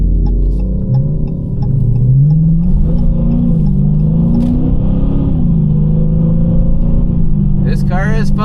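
An old Dodge Challenger with a Hemi V8 idles and revs with a steady, deep, throaty rumble that rises and falls in pitch, loud and close, with a brief rising whine near the end.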